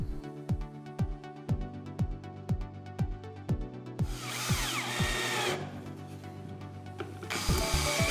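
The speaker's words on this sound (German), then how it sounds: "Nun schrauben wir den Boden auf." A power screwdriver drives screws into the base of a wooden mould for a concrete lamp, giving two loud whirring bursts near the end over a steady, rhythmic thumping beat.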